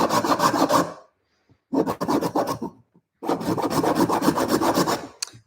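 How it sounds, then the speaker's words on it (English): A rasp rounds the edges of a carved wooden whistle in three bursts of rhythmic strokes, each a rough, scraping rub of metal teeth on wood, with short pauses between them. "Hold my rasp down, and I'm just going to round"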